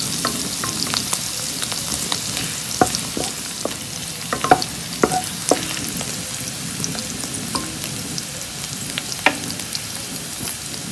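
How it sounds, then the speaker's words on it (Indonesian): Garlic fries in hot oil in a pan for a Chinese kale and salted fish dish, giving a steady loud sizzle broken by frequent scraping and clicking strokes of a spatula stirring it. "kita akan goreng kita punya bawang putih ni sampai dia"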